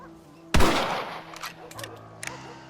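A single loud rifle shot rings out in Red Dead Redemption, a sharp close blast with a long reverberating tail, followed by a few faint clicks and rattles.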